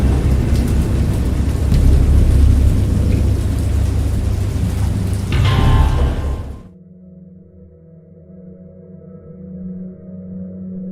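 In a PC video game, loud, heavy rain pours with deep rumbling thunder, then cuts off abruptly to near silence, leaving only faint low tones.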